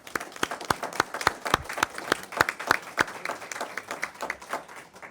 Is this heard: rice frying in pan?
no